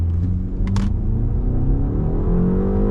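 Hard launch in a rear-wheel-drive BMW 5 Series G60 in sport mode with traction control off: a loud, steady engine roar and rising drivetrain rumble build continuously, with a couple of brief higher-pitched bursts near the start.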